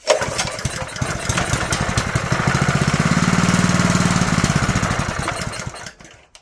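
A Honda GX160 small engine, a junkyard find under repair, fires up on choke and runs with a loud, close, steady chugging drone before cutting out at the end.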